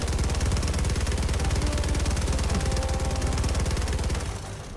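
Helldivers 2 gunfire, a loud, rapid and unbroken machine-gun burst rattling for several seconds before cutting off abruptly.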